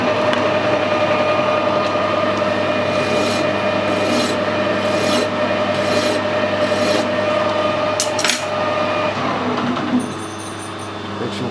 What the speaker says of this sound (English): A simple way to do it is a file.